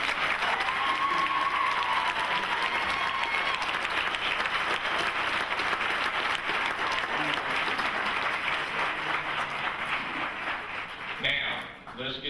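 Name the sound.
graduation audience applause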